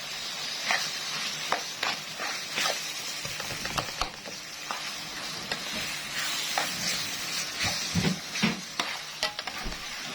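A spoonful of tomato paste hits minced meat frying in a pan, giving a loud, continuous sizzle broken by repeated scrapes and clinks of a spoon stirring, close by and with no talking.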